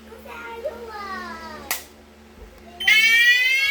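An Asenware fire alarm set off from a manual call point: a loud, harsh, buzzing sounder starts abruptly after a sharp click, following a stretch of quieter voices and background chatter.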